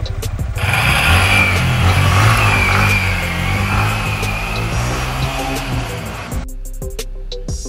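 A Yamaha MT15 motorcycle engine runs loud and close on a test ride, revving and droning with shifting pitch before cutting off abruptly near the end.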